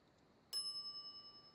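A single bright ding from a counter service bell in The Secret of Monkey Island, sharp at the strike and then ringing out and slowly fading, alone in a quiet scene.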